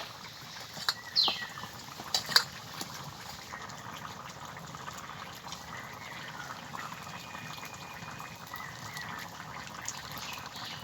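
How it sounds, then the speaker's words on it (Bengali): Grated coconut is squeezed by hand to press out its milk, giving a continuous soft trickle and drip of liquid with a few light clicks early on, steady and close. "এবার এর থেকে আমি দুধটা বের করে নেব"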